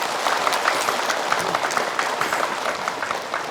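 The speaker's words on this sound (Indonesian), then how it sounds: "Boleh tepuk tangan." A studio audience at an Indonesian religious talk show applauds steadily, dense clapping filling the space without a break.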